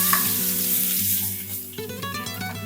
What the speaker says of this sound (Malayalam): ഈ ചൂടായ എണ്ണയിലോട്ട് ഒരു 8 വെളുത്തുള്ളി ഗ്രേറ്റ് ചെയ്ത് ഇട്ട് കൊടുക്കാം